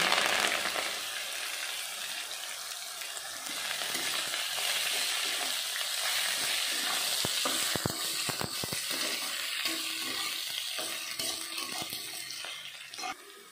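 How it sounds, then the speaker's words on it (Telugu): Gongura leaves hit a hot tempering of mustard seeds and cumin with chana dal, giving a loud, steady sizzle throughout with a few sharp stirring clicks near the middle, with no voices. "ఆవాలు జీలకర్ర ఒక స్పూన్ అవి వేగింది పచ్చిపప్పు అవి వేగిన తర్వాత ఈ గోంగూర వేస్తాను"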